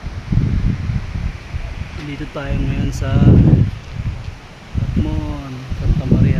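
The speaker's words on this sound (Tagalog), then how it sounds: "Yun, lakas ng hangin." Strong wind near the San Vicente bridge in Catmon roars against the microphone in heavy low gusts that rise and fall, while someone talks over it.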